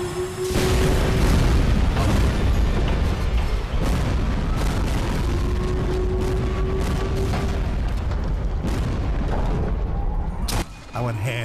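A heavy explosion booms and rumbles on in the Sniper Elite VR video game, loud and dense for several seconds, with a narrating voice speaking over it.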